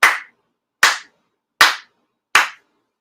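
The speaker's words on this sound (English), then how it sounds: "4 sincere claps" Four sharp ritual hand claps at a Shinto-style shrine ceremony, evenly spaced about 0.8 seconds apart, crisp and close with nothing else sounding between them.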